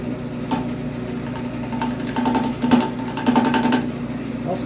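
A lathe with a chuck turns a small piece cut from a railroad spike, giving a steady machine whir with a cutting hum and occasional scraping bursts throughout, close and fairly loud.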